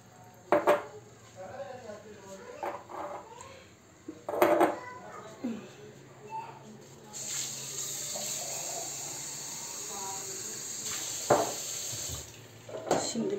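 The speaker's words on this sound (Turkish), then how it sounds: "Bunun içerisine şimdi şu kemik suyunu ekliyorum." Bone broth is poured into a pot of boiled pounded wheat, giving a steady splashing pour that follows scattered kitchen clinks and knocks, with a voice talking at times.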